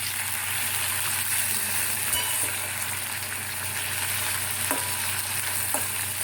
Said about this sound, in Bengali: আগে আমি সবজিটা ভেজে নেবো